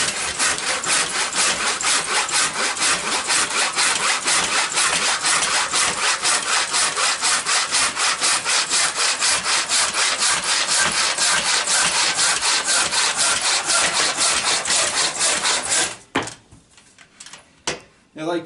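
Firewood cut with a hand saw, steady rapid back-and-forth strokes rasping loudly and close for about sixteen seconds, then the sawing stops and a few quieter knocks and rustles follow.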